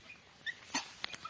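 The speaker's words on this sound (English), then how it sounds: "This dog is crying a lot." A dog whimpers and cries in several short, high, faint whines with soft breathy sniffs between them, heard alone at close range.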